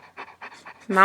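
A huge Bernese mountain dog pants on a bed right beside the microphone, giving quick, rhythmic close breaths, before a person's voice cuts in at the end.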